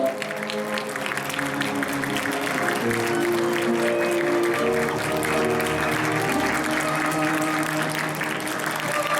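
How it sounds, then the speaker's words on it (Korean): Wedding guests in a Seoul wedding hall applauding as the bride's parents enter, a sustained wash of clapping blended with live instrumental music playing throughout, even and moderately loud. "하객 여러분들께서는 마찬가지로 뜨거운 박수로 맞이해 주시기 바랍니다."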